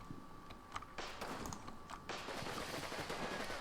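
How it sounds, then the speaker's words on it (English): Distant machine gun bursts and scattered gunfire crackle across a wartime Italian battle on the Gustav Line in the Combat Mission: Fortress Italy game, with sharp bursts standing out over a dense, continuous battle din. "There's 2 guys just got wiped out by a machine gunner in that place."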